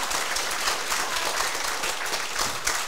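Steady applause from an audience at a closing ceremony for a Taiwan Civil Government senior administrative training class, a dense continuous clatter of many hands at moderate loudness throughout.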